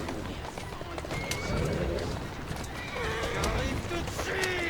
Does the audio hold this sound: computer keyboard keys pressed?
no